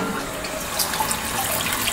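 Tap water runs steadily while beer wort is being cooled after the hop additions in a home brew, a continuous broadband rush with no talk over it.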